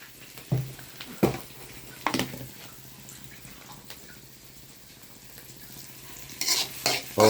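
Spice paste with turmeric and salt being sautéed in a pan: a soft, low sizzle broken by a few sharp scrapes and knocks of a spoon against the pan.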